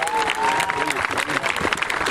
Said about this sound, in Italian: un applauso per Anne